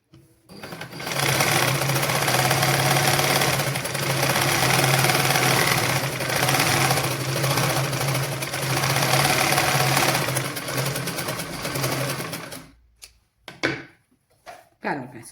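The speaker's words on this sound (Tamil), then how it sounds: "இப்படி மடித்து தைச்சு பார்ப்போம்." Sewing machine stitching through folded cloth, a steady close mechanical whir running continuously for about twelve seconds before stopping, followed by a few short bursts.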